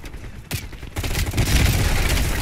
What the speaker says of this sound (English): That is a grenade.